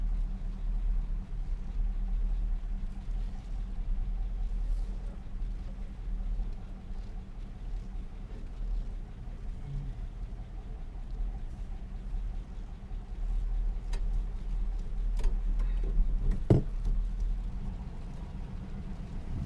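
A car driving along with a continuous low engine and road rumble, steady throughout, with a few faint clicks and knocks on top.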